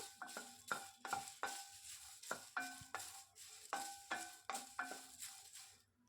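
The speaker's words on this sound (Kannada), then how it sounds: "ಎಲ್ಲವನ್ನು ನಾನು ಹಾಗೆ ಡ್ರೈ ರೋಸ್ಟ್ ಮಾಡ್ಕೊತಾ ಇದ್ದೀನಿ" Garlic and spices dry roasting in a pan over a low flame, with a regular rhythm of stirring scrapes and light clinks against the pan under a soft sizzle, close and moderately quiet.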